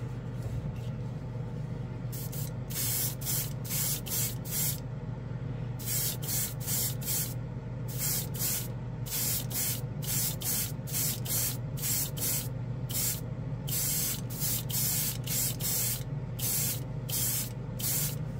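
An airbrush sprays Odenkan metallic metal paint in repeated short bursts of bright hiss, roughly a dozen evenly spaced spurts over a steady low hum of the compressor, close and loud.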